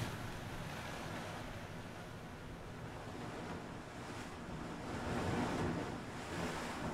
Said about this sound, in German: Das Wasser ist derbe laut